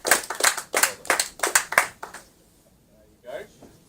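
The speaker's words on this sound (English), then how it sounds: "Let's give a big round of applause to Anatoly." A small group claps at a kart racing awards gathering, a handful of loud, close, separate hand claps for about two seconds that then stop, leaving quiet with a brief sound near the end.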